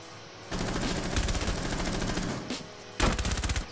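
Rapid automatic gunfire from Rainbow Six Siege comes in two loud, close bursts, a long stream followed by a shorter one after a brief pause.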